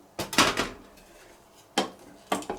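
Spoon scraping and clinking in a pot of fresh peas and bulgur with hot water, three short bursts of stirring separated by quiet pauses, close and fairly soft.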